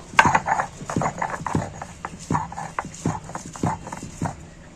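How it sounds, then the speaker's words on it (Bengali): Garlic cloves and ginger being crushed and ground on a sil stone, a run of close, regular thuds and scraping strokes with a faint background hiss. "একটু সিলে পিষে নিচ্ছি ভালো করে একটু থেঁতো করে নিচ্ছি"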